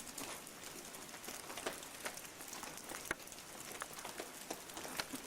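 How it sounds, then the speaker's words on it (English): Heavy rain pouring down outside at night beside a forest, a faint continuous patter of drops with occasional sharper nearby splats. "Tonight is again, like I said, it's pouring down rain."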